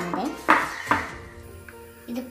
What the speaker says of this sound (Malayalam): അതിൻ്റെ ഉള്ളിലെ ബബിൾസ് ഒക്കെ പോകാനാണ് ഞാൻ മുട്ടി കൊടുക്കുന്നത്.